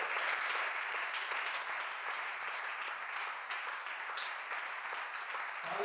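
A church congregation applauds, a steady, full wash of many hands clapping that carries on for several seconds in a large room.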